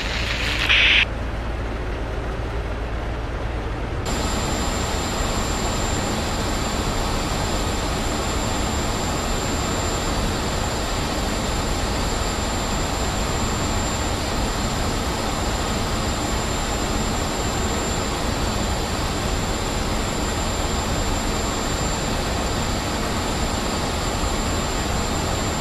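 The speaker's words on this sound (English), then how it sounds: "the aircraft is starting its engines" C-17 transport jet spooling up its engines at startup in the DCS combat flight simulator, a steady loud jet roar that holds evenly throughout, with no voices.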